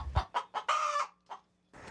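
Chickens cluck in a few short, close bursts with small pauses between them, and a low steady hum runs underneath.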